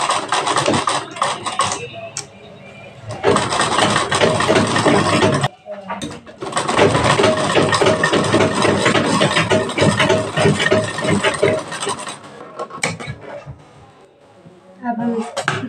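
A sewing machine stitches all around the edges of a belted blouse piece in bursts of steady whirring, loud and close, with short pauses between runs.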